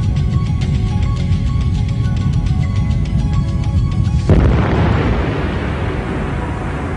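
A fuel tank bursts in a boiling liquid expanding vapour explosion, a sudden roaring blast that swells out of a dense rushing hiss and continues as a sustained loud rumble.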